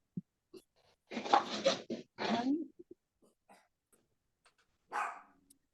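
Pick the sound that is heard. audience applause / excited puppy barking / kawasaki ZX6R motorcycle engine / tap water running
excited puppy barking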